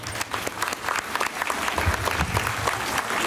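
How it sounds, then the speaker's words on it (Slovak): A crowd at a school-year opening ceremony applauds loudly and steadily from start to finish, with dense clapping close at hand. "Môžeme ich zase odmeniť jedným potleskom."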